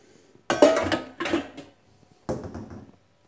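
A pan being handled: three separate bursts of clanking metal rattles, close and fairly loud, with short pauses and near silence between them.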